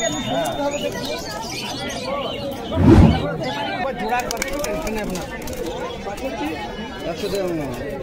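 Pigeons coo and chatter among the crowd at a busy pigeon market, with constant nearby human talk and one brief louder thump of noise partway through.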